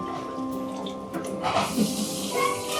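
Tap water runs into canning jars set in a large pot for canning peaches, a steady splashing and pouring that grows fuller and louder partway through, close by.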